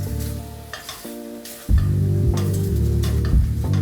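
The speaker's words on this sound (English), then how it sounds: "Give the shrimp a good stir." Shrimp stirred and sizzling in a hot pan, with scraping stir strokes over a continuous frying hiss that grows louder midway, close and alone without talk.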